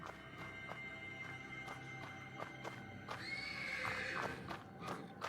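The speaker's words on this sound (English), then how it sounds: "The persistent neighing of a horse can be heard from the stables." A horse in the stables of the video game Black Book neighs repeatedly, with a long, loud whinny near the end over faint stable ambience and soft hoof thuds.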